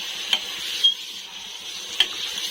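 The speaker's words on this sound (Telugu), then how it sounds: "నూనెలోనే కాసేపు వేగాలి" Food frying in hot oil while being stirred in a pan, a soft steady sizzle with a few sharp utensil clicks scattered through it.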